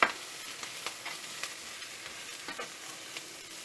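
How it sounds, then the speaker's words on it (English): Spring onion, thyme and rosemary are stirred and fried in a pan with oyster mushrooms, giving a faint, even sizzle with frequent light scraping strokes from the spoon. "the spring onion, the thyme, rosemary, and I'll fry it, mix and fry."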